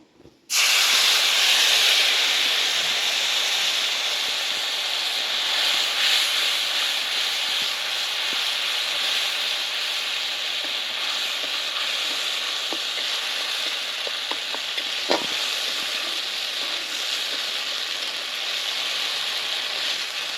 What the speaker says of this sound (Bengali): সর্ষে কাঁচা লঙ্কা বাটা ভালো করে তেলের মধ্যে আমি ভেজে নিয়েছি।